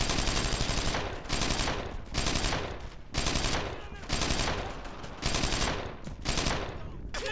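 Heavy automatic gunfire in the World War II shooter Brothers in Arms: Earned in Blood, loud close bursts of rapid shots repeating in roughly one-second volleys with brief gaps between them, shouted voices mixed underneath.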